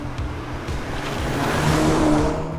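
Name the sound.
Volkswagen Golf GTI 8.5 engine sound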